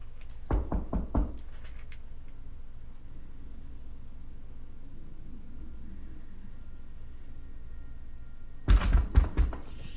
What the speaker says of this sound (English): Someone started to bang on the front door